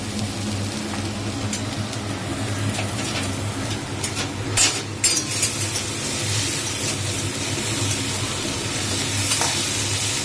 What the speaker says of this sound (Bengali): এই কড়াইয়ের তেলটা গরম হোক, তারপর ওটার মধ্যে ডিম দেবে